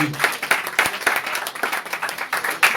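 A church congregation claps in lively rhythm, many hands striking together in steady repeated bursts with some cheering underneath.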